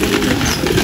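Racing pigeons coming in during a derby training release in the Philippines, with a brief steady wash of cooing and wingbeats, fairly loud and continuous, no talk.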